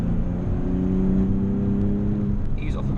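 A Nissan 370Z engine holds a steady, loud drone in fourth gear on the Anglesey GP circuit, its pitch rising and falling only slightly. A voice talks over it throughout.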